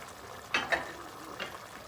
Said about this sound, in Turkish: Şöyle yavaşça bir karıştırıyoruz